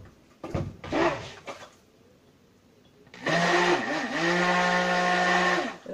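Soap mixture is stirred with a handheld electric blender. After a few short clattering knocks, a loud, steady motor whir starts about halfway through and runs continuously with a slight wavering pitch.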